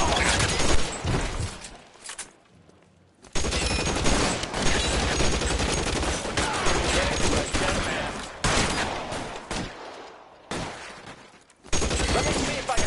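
Sustained loud gunfire from the L.A. Noire video game fills the scene, dense volleys broken by two short lulls before the shooting resumes at full intensity.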